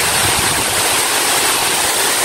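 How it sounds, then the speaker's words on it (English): The main waterfall at Ng Tung Chai on Tai Mo Shan gives a steady, broad rushing roar of falling water, loud and constant, with no voices. "so this is the waterfalls. The main waterfalls."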